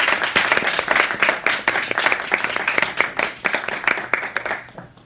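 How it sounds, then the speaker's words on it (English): A small audience at a Toastmasters club meeting claps after a speech, distinct individual hand claps in an irregular, lively patter that thins and stops near the end. "Another applause for Daniela."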